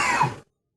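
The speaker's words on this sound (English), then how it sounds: "You got a cough going on" A single short, harsh cough, loud and close, bursting out and cutting off abruptly into silence.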